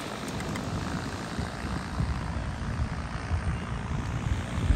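Small engine and propeller of a powered paraglider flying over a beach, a steady loud buzzing drone that holds without a break for the whole stretch.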